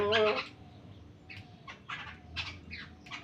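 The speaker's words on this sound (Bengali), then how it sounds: "পাখিগুলোকে দেখতে খুব সুন্দর, কি ডাকে, কি কি কিরকির কিরকির কিরকির করে ডাকে" A flock of about nine birds call while eating fried snack crumbs: one loud call opens, followed by a series of short, chattering calls nearby.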